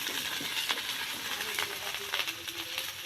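Ingredients for a home-style desi dish dropping into a hot wok, giving a steady close crackling sizzle with light spattering pops throughout, under a faint murmur.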